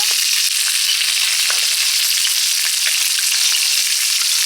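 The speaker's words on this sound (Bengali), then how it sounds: "এদিকে মাছ ভাজা হচ্ছে" Loud, continuous sizzling of fish frying in hot oil, with occasional crackles and pops; no voices.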